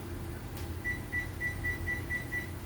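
A stove timer gives seven short, evenly spaced electronic beeps, clear and fairly close, over a low steady kitchen rumble.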